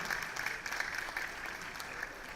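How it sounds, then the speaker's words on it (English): An audience at a school annual day celebration applauds the performers, a dense, even patter of many hands held at a steady, fairly soft level from a distance for the whole stretch. "Let's give them a huge round of applause for their dedication"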